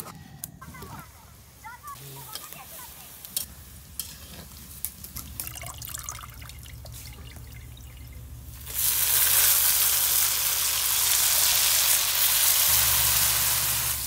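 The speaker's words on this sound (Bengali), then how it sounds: "তেলটা দিলাম, জিরা বাড়ছি কিন্তু জিরা আস্ত জিরা একটু দিয়ে দিলাম।" Whole cumin seeds hit hot oil, starting as faint clinks and stirring and then giving way to a loud, steady hiss of frying that carries on to the end.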